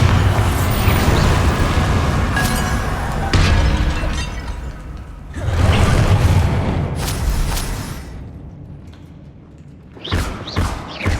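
Bombarda spell blasts in Hogwarts Legacy, a series of loud booming explosions with shattering debris, several heavy bursts rising and fading over combat noise, ending in a few sharp thumps.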